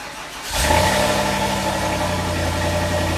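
Volvo V70 fitted with a V8 engine and original V8 exhaust system, starting up with a sharp burst, then settling into a deep, steady, close-up rumbling grumble at idle.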